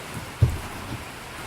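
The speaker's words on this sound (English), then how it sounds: "it's kind of loud up here with the rain" Steady rain on the roof heard from inside an attic fills the space with a soft, even hiss, broken by one brief dull thump.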